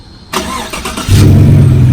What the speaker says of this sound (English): you can remote start your truck